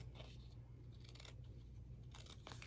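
Scissors trimming a sublimation hat patch, several quiet snipping cuts in small bursts with a pause between, close but faint over a low steady hum.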